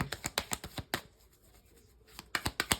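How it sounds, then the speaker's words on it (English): A slightly sticky tarot deck is riffled in quick, crisp snapping bursts, close and fairly quiet, with a short pause before the rapid flicking resumes; no one speaks. "If I have to keep shuffling cards and they just don't come out, even though these ones are sticky"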